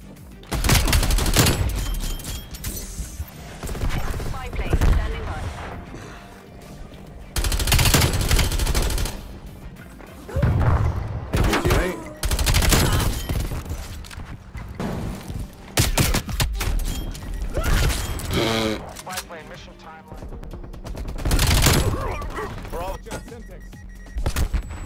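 Heavy automatic gunfire in Black Ops Cold War, loud repeated bursts and rattling volleys with booms and impacts, broken by short gaps across the whole stretch.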